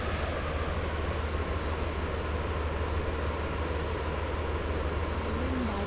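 Train in the Roblox game Stepford County Railway runs at steady speed, giving a continuous loud low rumble and rolling noise with no break.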